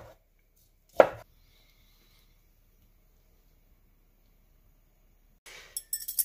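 A single sharp knife chop on a board at the start, then a few quick cuts at the end, as cooked lobster meat is cut into large chunks in a quiet kitchen.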